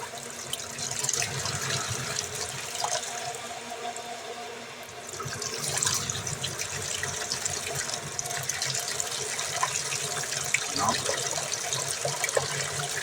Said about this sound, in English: The whole time it was coming out white and frothy.